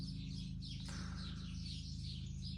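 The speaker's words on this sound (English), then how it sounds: "listen to the birds" Birds chirp continuously in the distance, their repeated calls riding above a steady, loud low hum.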